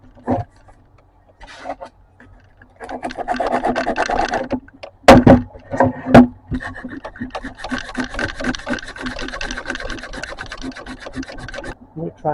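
Wood is sanded by hand with coarse 60-grit sandpaper, heard as close, uneven rasping strokes in bursts with brief pauses and a couple of sharp knocks.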